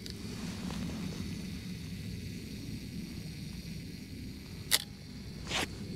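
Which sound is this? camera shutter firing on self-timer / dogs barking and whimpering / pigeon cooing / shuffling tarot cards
camera shutter firing on self-timer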